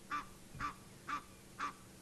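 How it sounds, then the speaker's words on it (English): Egyptian geese give alarm calls at a leopard near a dam, four loud honking calls spaced evenly about half a second apart over a low steady background hum. "You can hear Egyptian geese basically alarm calling at the leopard."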